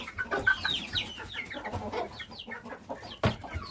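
A chicken clucks repeatedly up close in a coop, a busy, irregular run of short calls, with one sharper squawk near the end.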